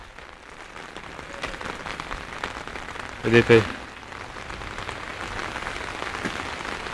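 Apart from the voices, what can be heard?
rain falling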